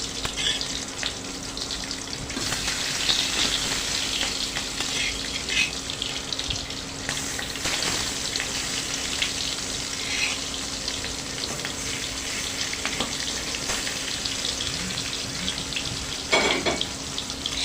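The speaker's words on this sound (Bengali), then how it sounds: "এখন আমি মাছগুলো ভেজে নেব। এক এক করে সবগুলো মাছই ভেজে নিতে হবে।" Rohu fish pieces fry in hot oil with a continuous close crackling sizzle, plus occasional clinks and louder spatters, and no voices.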